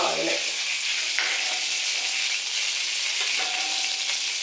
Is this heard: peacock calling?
no